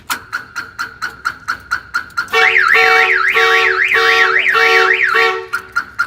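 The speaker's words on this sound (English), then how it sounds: "I'm gonna turn off the alarm by hitting unlock" A Ford Bronco's car alarm blares nearby: a series of evenly spaced chirps, then a loud warbling siren that rises and falls, then chirps again.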